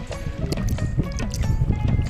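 Small waves on a Sundarbans river slap and gurgle around the hull of a fishing boat, continuous close liquid splashing with occasional drips, faint voices under it.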